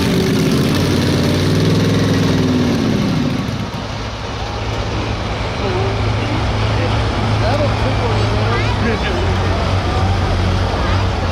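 Light limited super stock tractor roaring steadily at a tractor pulling event, a loud continuous engine drone filling the whole stretch, with an announcer's voice over the noise.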